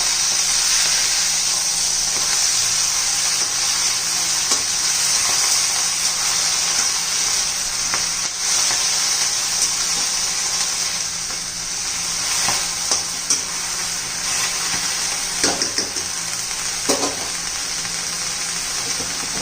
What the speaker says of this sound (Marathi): मेथी शिजवून घेणार आहोत.